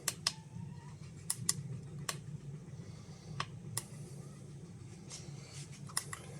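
Sharp, irregular clicks from an SBT13 Geiger counter dosimeter tick out one by one over a quiet low hum, scattered at uneven intervals, with the alarm switched off.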